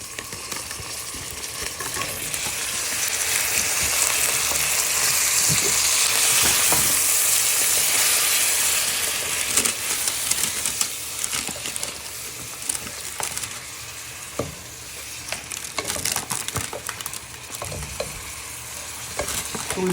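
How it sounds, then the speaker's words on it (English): Squid sizzling loudly in a hot pan with chorizo, shallot and garlic, steady frying hiss broken by scraping, clacking stirs over twenty seconds, with no talking. "So we're just adding all our squid to the pan, and you want to give that a good stir."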